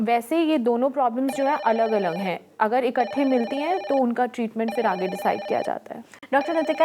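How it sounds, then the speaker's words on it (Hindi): A telephone bell rings in repeated electronic trill bursts, clear and loud, under a person talking throughout. "आप सुन सकते हैं फ़ोन की घंटी बज रही है"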